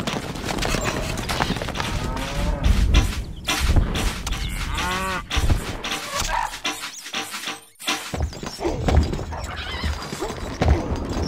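Horses in the strategy game Stronghold Crusader, with loud neighing and whinnying over clip-clopping hooves and dense game sound effects, repeating through most of the stretch.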